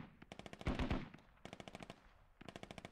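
Rapid automatic rifle bursts crackle in the Squad video game, with a heavy low thump midway and a short pause before firing resumes.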